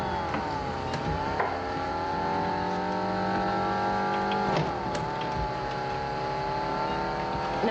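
A car engine runs steadily under a driving lesson, its pitch sliding down and back up as the driver brakes and changes down through the gears, with a couple of brief clunks from the gearchange.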